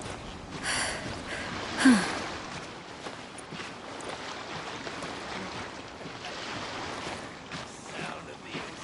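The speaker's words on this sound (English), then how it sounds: "Sound of the ocean waves." Ocean waves in the Genshin Impact video game wash in a steady, breathy surge, with a brief louder swell near the start and an even, airy roll throughout.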